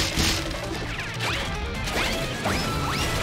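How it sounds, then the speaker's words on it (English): Stock Hanna-Barbera style cartoon run-and-zip sound effects used in the Bleach anime, a busy run of rapid zips and swooshes with repeated quick whistling sweeps over a dense, clattering backdrop. "the stock Hanna-Barbera run-and zip sound effects"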